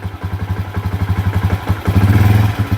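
A motorcycle engine chugging in a steady rhythmic putter, then growing louder and denser as the rider slowly releases the clutch and opens the throttle, close by with no talking.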